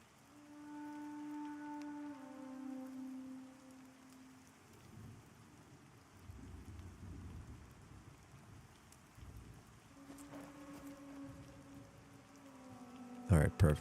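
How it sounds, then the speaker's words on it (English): Steady rain falls in the Pantheon MMO game world at sunset, a soft continuous hiss that lasts throughout, layered with gentle sustained music tones and a few brief louder clatters at the very end. "I like how the sun is setting and the rain is falling."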